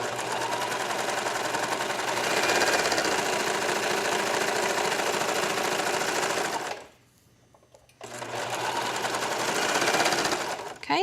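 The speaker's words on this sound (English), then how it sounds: "now we're sewing the second side seam" Sewing machine stitching the side seam of a tank top in a long, steady, loud run, pausing for about a second before resuming at the same fast pace, close by.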